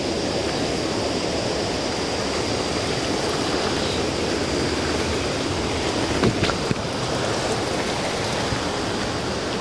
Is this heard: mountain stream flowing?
yes